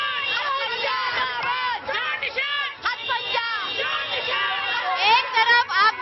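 A large crowd at Arvind Kejriwal's road show chants and shouts slogans together, a loud continuous roar of many voices rising and falling in rhythmic bursts.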